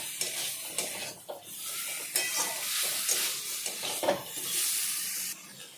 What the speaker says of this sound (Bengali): সবজির সাথে মশলাগুলো আরও একটু কষিয়ে নেব